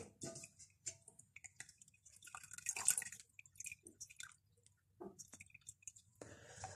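Paneer wrapped in cloth being squeezed by hand, quiet close wet squishes and trickles of water coming in short irregular bursts, with scattered drips between them.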